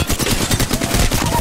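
Rapid automatic gunfire in an Apex Legends match while playing Octane, a loud close burst of evenly spaced shots in quick rhythm lasting the whole moment.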